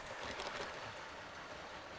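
A motorized LEGO train runs on its track with a faint, steady whirring hiss, continuous and fairly quiet with no talking.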